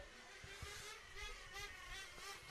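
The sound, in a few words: 1/10 nitro RC race cars driving past on track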